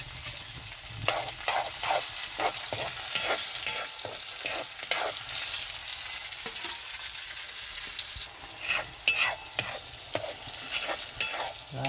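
Onion, tomato, green chilli and garlic stirred in a pan on a village stove, a steady sizzle under repeated scraping and clattering stirring strokes, fairly close.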